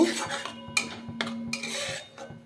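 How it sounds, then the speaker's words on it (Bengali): A spoon stirs sugar into a mixture in a metal pan, giving a few distinct scraping strokes and clinks against the pan with short pauses between them, close and fairly quiet, with no one talking. "চিনি দিয়ে ভালো করে এটাকে নেড়ে চেড়ে নেব।"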